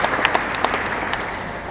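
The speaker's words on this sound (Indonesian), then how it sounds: "Terima kasih, tepuk tangan." Brief burst of audience applause at a gathering on regional economic independence, a dense clatter of many hands lasting under two seconds with a few sharper individual claps standing out.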